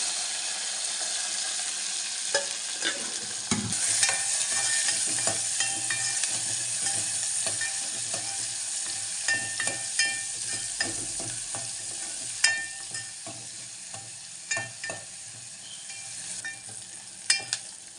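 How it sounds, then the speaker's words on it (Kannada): Mustard seeds, garlic and curry leaves sputter and fry in hot oil, a steady bright sizzle running throughout with scattered sharp pops and occasional stirring clinks, close and clear with no talking. "ಸಾಸಿವೆ ಚಟ್ಪಟ ಅಂತಿದೆ"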